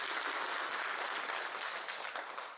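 Sustained, dense applause from a large audience at a corporate bank town hall, steady and loud throughout with a slight fade at the end.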